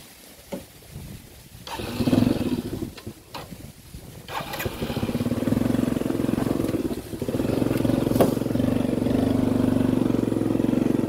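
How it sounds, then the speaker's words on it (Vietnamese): A motorbike rides along a road past a farm plot in Dak Nong, its engine a steady, fairly loud drone that builds after a few uneven bursts and holds to the end. "Em sẽ lấy xe máy của em chạy tới đâu"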